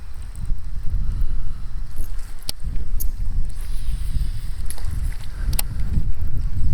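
Wind gusting across a river during a largemouth bass fishing trip on the Wateree River, a steady low rumble and buffeting with intermittent knocks, no voices.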